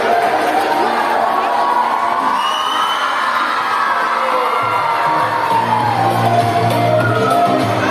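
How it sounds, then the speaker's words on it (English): A crowd of schoolchildren shouts, whoops and cheers steadily at a school medal and awards ceremony, with the loud, dense noise continuing throughout. "Someone is shouting."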